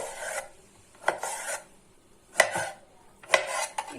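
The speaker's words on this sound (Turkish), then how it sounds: "Tekrar bu şekilde doğruyorum patlıcanlarımı." A knife slices through peeled eggplants on a board, making three crisp, close cuts spaced about a second apart, with quiet rasping between them and no talking.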